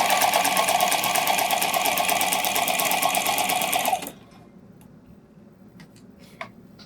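A sewing machine stitches synthetic fabric in a fast, steady, rapid-fire run, then stops abruptly partway through, leaving a quiet room with a few faint clicks and a small knock.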